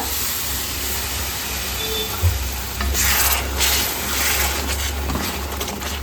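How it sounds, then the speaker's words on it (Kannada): Rajma masala fries in a pan as the bean cooking water is poured in, producing a loud, steady, close hiss of sizzling with stirring scrapes throughout. "ಈ ಹದದಲ್ಲಿ ಮಸಾಲೆ ಫ್ರೈ ಆಗುವಾಗ ಕಾಳು ಬೇಯಿಸಿದ ನೀರಿರುತ್ತಲ್ಲ, ಅದನ್ನು ಸ್ವಲ್ಪ ಸೇರಿಸ್ಕೊಳ್ಳೋಣ"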